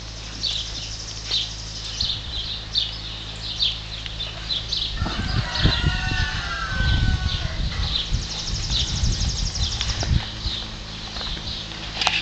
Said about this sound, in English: There's our horse, Spice.